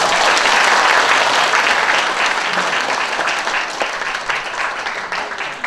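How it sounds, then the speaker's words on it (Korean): Loud, sustained applause from an audience at a founding ceremony for a history and culture promotion institute, dense clapping filling the whole stretch and easing slightly toward the end. "큰 박수 부탁드립니다."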